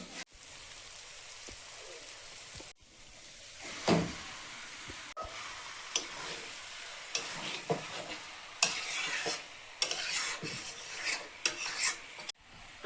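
Chicken and spice paste with turmeric fry in hot oil, giving a steady sizzle with scraping and stirring strokes and occasional sharper clatters, close by, with faint voices briefly.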